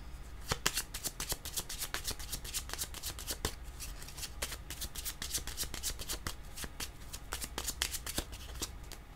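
A deck of tarot cards is shuffled close by in a steady riffle of crisp, rapid flicks and snaps that repeat throughout.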